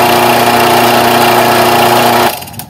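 An air compressor with a suspected faulty motor that draws high current, overheats and resets runs with a loud, steady droning hum, then cuts off abruptly near the end, leaving quiet room noise.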